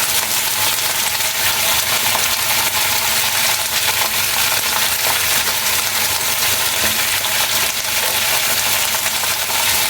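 Vegetables frying in a pan for a vegetarian spinach (palong shak) dish, a steady, close, continuous sizzle with faint stirring clinks throughout, no talking.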